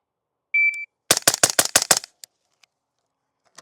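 A BCM rifle fires a rapid string of six sharp shots at about 7 yards, loud and evenly spaced, preceded by a short electronic shot-timer beep and followed by faint clicks.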